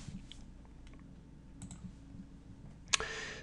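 Soft computer keyboard taps and mouse clicks come in sparse, irregular bursts at low volume, ending with one sharper, louder click and a brief bright rustle.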